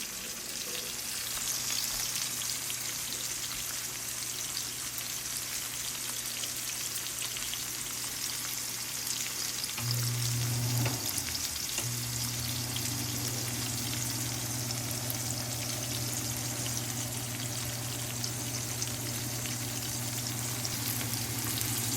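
Garlic and celery fry in oil in a pan, giving a steady, even sizzling hiss that carries on unbroken, with a faint low hum in the background.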